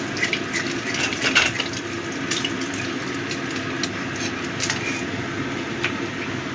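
Tap water runs steadily into a sink as fish heads are rinsed for a Bengali mourola fish curry, a continuous close gushing wash with occasional splashes and no voices.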